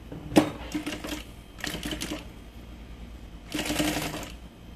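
A sewing machine stitching along piping at the fabric's edge runs in three rapid rattling bursts with short pauses between, close and steady, with no voices.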